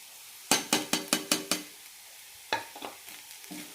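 Spice powders are stirred into egg puff filling in a pan: turmeric, roasted coriander, fennel and pepper. A quick run of about six sharp scraping strokes comes first, then a few lighter scrapes over a faint sizzle.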